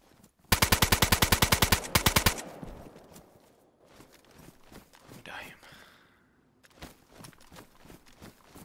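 A PKP machine gun in DayZ fires one loud, rapid close burst of about two seconds, followed by quieter footsteps and movement, with brief speech.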